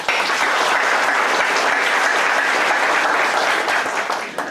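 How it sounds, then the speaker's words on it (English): An audience at a college talk on community problem-solving applauds, a loud, continuous roar of many hands clapping that holds steady and tapers slightly at the very end. "he deserves a round of applause for him"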